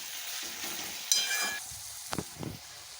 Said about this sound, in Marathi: 1 चमचा सोया सॉस, हे सर्व मसाले टाकून आपण चांगले परतवून घेऊ.